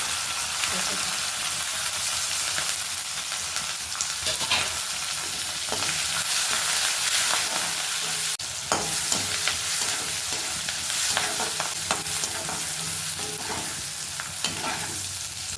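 Chopped tomatoes sizzle loudly in a hot pan of sautéed onions for a Tamil crab curry, with a spoon scraping and stirring through them in steady bursts, continuous and close, with no one talking.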